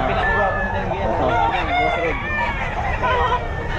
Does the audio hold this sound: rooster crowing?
yes